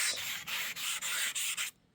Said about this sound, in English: Sand this area.